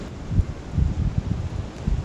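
Wind gusting outdoors on a shallow-water flathead catfishing outing, low rumbling buffets against the microphone in uneven bursts, close and moderately loud, with no talking.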